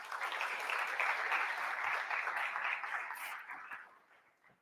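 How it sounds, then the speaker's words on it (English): Audience applause fills the room at an insurance sector annual general meeting, a steady wash of many hands that holds for several seconds and then tapers off toward the end. "Let's give her a round of applause."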